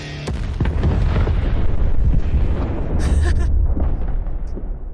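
Explosions in a video game trailer boom loudly, a heavy rumbling blast that carries on for several seconds, with sharp crackling debris bursts near the end.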